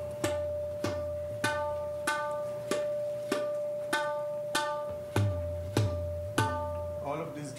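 Hand drum played through a rhythmic cycle at medium tempo, a steady run of sharp ringing strokes about every 0.6 seconds with a sustained pitched tone and deep bass thumps, close and alone.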